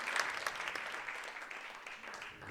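A crowd applauds a troupe of dancers at a live rock opera performance: brief, fairly quiet, steady clapping that stays even throughout.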